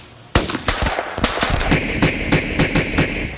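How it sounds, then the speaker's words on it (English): Royal Marines sharpshooters fire rifles in Afghanistan, a sharp loud shot followed by a rapid series of close, cracking reports in quick succession. "Sharpshooters take aim. This time, it's shoot to kill."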